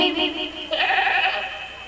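A voice imitates a goat bleating with a nasal, wavering 'mai' sound in two drawn-out bursts during a Hindi religious discourse.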